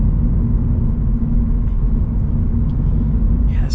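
A 2024 Toyota 86 manual sports car drives on the road, giving a steady, loud low engine and road rumble from inside the cabin that continues without a break.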